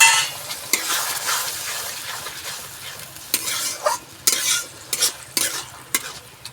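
Raw bhola fish masala with chopped ripe tomato and flat beans sizzles in a pan as a little water goes in, with repeated sharp scraping strokes of a spoon stirring it, close and loud.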